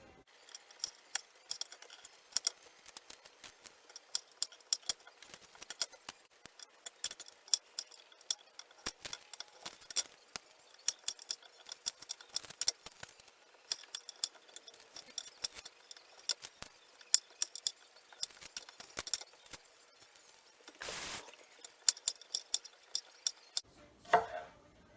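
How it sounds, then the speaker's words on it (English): Garlic cloves are cut into bite-sized pieces with a steady series of faint, crisp knife clicks and taps against a board, irregularly spaced and close, in an otherwise quiet room. "So these big cloves I'll cut up into bite-sized pieces."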